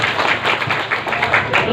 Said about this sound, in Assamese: তাৰ কাৰণে ডাঙৰ হাত চাপৰি বজাব লাগে।